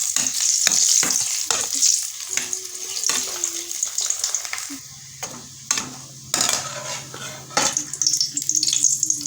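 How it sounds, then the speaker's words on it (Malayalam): Snack frying in hot oil in a home kitchen while being stirred, a steady bright sizzle broken by repeated scraping clatters of the stirring spoon, close and fairly loud with no talking. "ഞാൻ തന്നെ ഇട്ടിട്ട് അങ്ങനെ വറുത്ത് കോരിയെടുത്തു കേട്ടോ"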